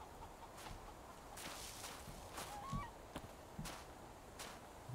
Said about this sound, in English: It's very hard to sneak up on the chickens.